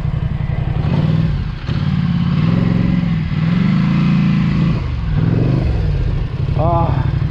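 A Polaris Sportsman 850 ATV engine revs loud and close in a rising and falling drone, its wheels spinning in deep mud while it is stuck and bottomed out, with a few rattles and clatter toward the end.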